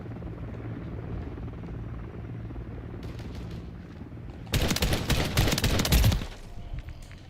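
A gunship helicopter in Call of Duty Modern Warfare III drones steadily with rotor thrum, then a loud burst of heavy gunfire erupts for a couple of seconds before the rotor hum continues alone.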